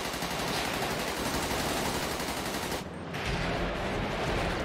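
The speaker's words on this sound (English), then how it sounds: "They're shooting at you." Dense bursts of rapid gunfire crackle almost without pause in GTA roleplay, a harsh, saturated barrage broken by one brief gap.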